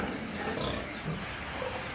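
Piglets grunting in a pen on a pig farm, a steady dense chorus of low snorts and squeals with no talk, fairly close and continuous.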